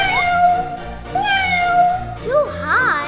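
A cartoon cat meows repeatedly in rising, plaintive cries, loud and close, mixed with animated children's voices and music in a rescue scene.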